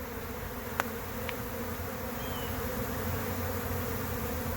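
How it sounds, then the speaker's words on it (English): A honey bee swarm pouring out of a packed beehive fills the air with a steady, dense buzzing, constant throughout, with a couple of brief sharper clicks near the start. "Can't believe that hive had so many bees in it."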